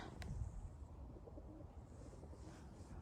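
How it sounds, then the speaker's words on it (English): White doves cooing softly at a small dovecote in snowy Seligenstadt, a low murmuring coo under steady outdoor ambience, with one brief sharp tick early on. "this little dove cote here is for all the white doves"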